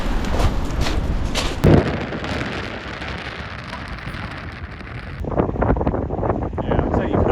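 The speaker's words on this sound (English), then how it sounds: "the wind is already pushing it this way" Strong wind buffets the microphone on a shoreline during a rough night of fishing in Kent, with a steady loud roar and a sudden gust burst partway through, the wind dropping slightly before picking up again.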